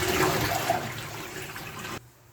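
Catfish being rinsed with water after a rub of tapioca starch, a steady close splashing rush for about two seconds that then cuts off sharply, with no voices.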